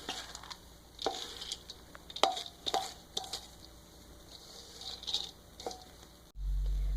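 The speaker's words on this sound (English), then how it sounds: "you want to make sure that the yeast is completely mixed into the rice" Cooked black rice is squished and patted by hand while yeast is worked in, giving soft, wet, irregular pats and squelches at close range, ending in a sudden low rumble.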